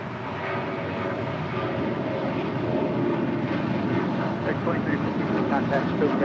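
A Japan Airlines Boeing 787-8 Dreamliner jet gives off a constant loud engine roar, steady and broadband, with a voice speaking faintly beneath it.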